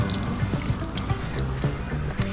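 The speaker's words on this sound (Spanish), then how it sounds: "Oh, hay agua. Oh, está fresquita." Fresh water running from a mountain fountain on a hot day, a steady close trickle and splash with small irregular gurgles throughout, no voices.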